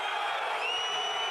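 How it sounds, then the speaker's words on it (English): A crowd cheers and roars continuously at a Pro D2 rugby match between Soyaux Angoulême and Valence Romans, a distant stadium wash of noise with faint whoops rising through it. "Crowd are going off."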